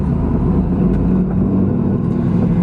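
A car rolls along a service road at low speed, its engine note a steady, loud drone heard up close from inside, with no talking.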